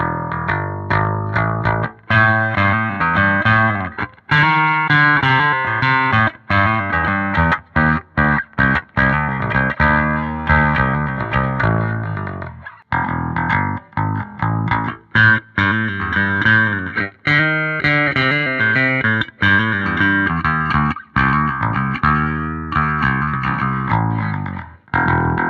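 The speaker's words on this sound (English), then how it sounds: "Gain Baby 100 overdrive tones." Bass guitar played through an orange Gain Baby 100 overdrive pedal, with a gritty, distorted tone. Phrases and riffs run steadily for about 25 seconds with a few short pauses, loud and up close with no talking.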